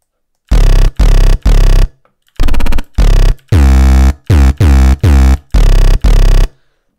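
Loud, buzzy synthesized bass notes played in short rhythmic bursts, with a brief fluttering stutter partway through, close and dry.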